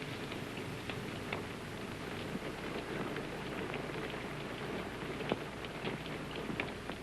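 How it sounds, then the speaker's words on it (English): Steady rain falls outdoors, a dense continuous patter with occasional louder drops against surfaces, with faint thunder rumbling underneath. "It's only the rain."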